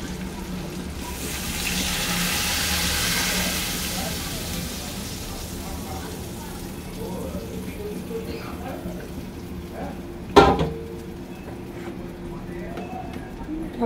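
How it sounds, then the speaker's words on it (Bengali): Water is poured into a pan of frying potatoes and taro stems, making a loud hiss and sizzle for a few seconds that settles into a steady simmer, with a sharp clank later and someone talking throughout. "এবার এতে জল দিয়ে দিচ্ছি।"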